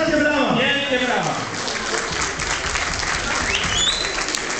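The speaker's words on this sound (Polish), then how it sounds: "Wielkie brawa." Loud crowd applause at a charity auction fundraiser, continuous dense clapping over several seconds with voices and shouts mixed in and a brief whistle-like tone near the end.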